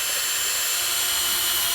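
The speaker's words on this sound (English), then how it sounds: "I gotta drill into the factory cluster bezel." A power drill bores into the factory cluster bezel inside an Eclipse GSX, a steady, even high whine held close and loud for the whole stretch with no pauses.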